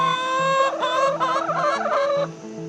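A flock of backyard chickens on a quiet street in New Jersey clucks and squawks continuously at close range, with several overlapping calls rising and falling and no speech.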